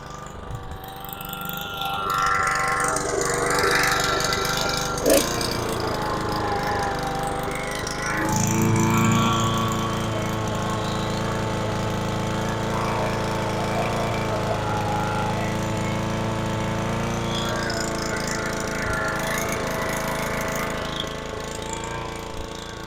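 A small petrol engine on an Alpina RS100 brush cutter runs steadily at high revs for a long stretch, droning and buzzing with a slight uneven thump from a misfire, up close and without talking.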